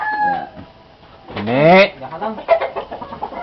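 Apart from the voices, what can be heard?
chicken clucking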